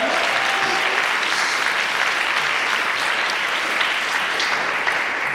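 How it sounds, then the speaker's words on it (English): Audience applause at a tech business event, a steady dense wash of clapping from a crowd that holds at an even loudness throughout with no talking over it. "Give me a good round of applause for that."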